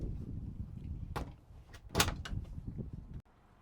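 A van door opens near the electrical system inside a stealth camper van, giving a couple of sliding knocks and a louder clack midway, then the sound cuts to silence.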